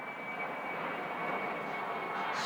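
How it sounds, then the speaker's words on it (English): Aeroplane passing over an allotment garden on a summer day, a steady broad engine roar that holds at a constant moderate level throughout, with no voices. "Sorry about the aeroplane noise"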